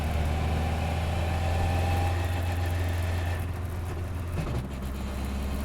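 A 1957 Lotus 7 racing car engine idles steadily, a close, loud low rumble with an even throb and no voices over it.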